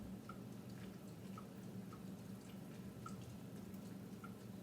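Water drips into a kitchen strainer in a steady series of small, evenly spaced drops over a low constant background hum, close by and fairly quiet, with no one talking.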